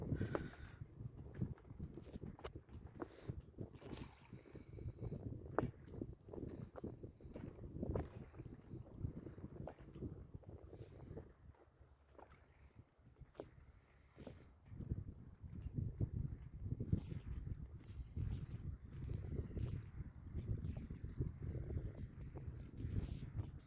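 Gusty wind buffets and rumbles continuously, with faint water sloshing beneath it, heard from a kayak on the Gulf of Corinth, Greece; no voices.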